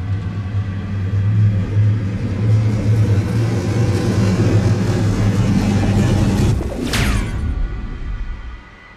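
A vehicle at full throttle in the video game Mass Effect 3 gives a loud, continuous low engine rumble. A sharp whoosh sweeps past near the end, and the roar then fades away.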